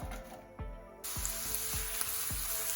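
Onions frying in olive oil for a vegetarian chili, a steady close sizzle with regular soft knocks of a spoon or pan every half second, no talk.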